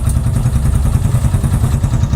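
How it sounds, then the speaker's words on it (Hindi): A motorcycle engine drones steadily and loudly at close range, carrying a rider along a forest road in an animated horror story, with low rumbling and light clatter throughout. "बाइक लेके जंगल के रास्ते निकल जाती है"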